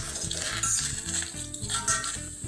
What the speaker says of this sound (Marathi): कांदा भाजताना थोडंसं मी तेल सोडते याच्यामध्ये, म्हणजे कांदा जरासा पटकन भाजेल आपला